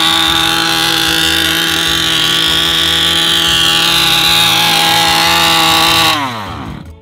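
A toy RC car's electric motor whines loudly and steadily with shifting harmonic tones, then quickly winds down and fades out near the end.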